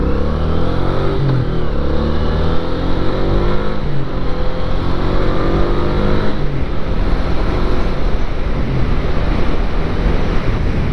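A 1983 Honda Ascot motorcycle engine pulls hard and steady for a long stretch, loud and continuous under heavy wind rush with no pauses.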